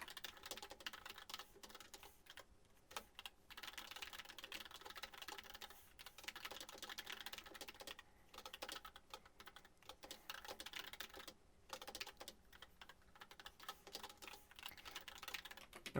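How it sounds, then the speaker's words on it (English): Steady, rapid typing of code on a computer keyboard, close and fairly quiet, keys clattering continuously with only brief pauses. "it's hard to type correctly and talk at the same time."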